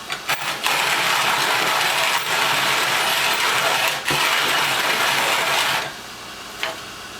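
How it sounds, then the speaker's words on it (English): A Zassenhaus manual coffee grinder crushes coffee beans with a steady, continuous crunching rasp at close range, broken by a few brief pauses before it quiets near the end. "Play with this a little bit to get my grind right, get any old beans out through the system."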